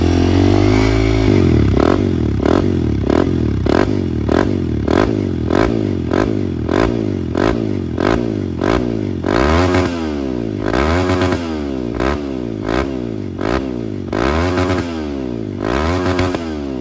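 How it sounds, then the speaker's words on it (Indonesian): A Kawasaki KLX230R dirt bike with a Takagami aftermarket exhaust idles with a fast, rough putter, then revs repeatedly in rising and falling bursts, loud and close throughout. "ini motor tadi juga udah kita nyalakan di belakang"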